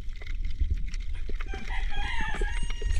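A rooster crowing repeatedly in a rural yard, clear and fairly close over a low rumbling background.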